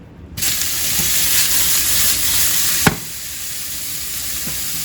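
Diced boneless pork loin marinated in soy sauce, salt and pepper hits hot sesame oil in a wok with a sudden loud sizzle, a steady close frying hiss continuing, then a brief clack and slightly quieter sizzling.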